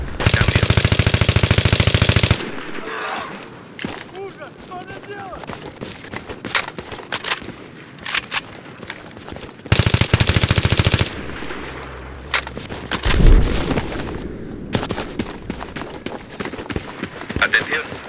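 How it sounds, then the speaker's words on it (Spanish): Enemy machine gun fire rattles in the Battlefield 3 video game during an assault on Damavand Peak. Long loud bursts of rapid automatic fire alternate with quieter stretches of battle noise, and a radio voice talks between bursts. "Tenemos una ametralladora enemiga."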